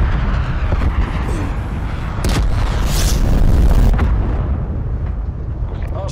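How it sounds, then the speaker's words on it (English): A cruise missile strike in Black Ops Cold War multiplayer Hardpoint lands as a series of heavy, rumbling blasts with sharp bursts, loud and dense over a continuous roar of in-game battle noise. "Enemy cruise missile launch detected."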